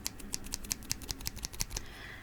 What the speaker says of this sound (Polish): Dlatego dobrze, że wzięłam te nożyczki.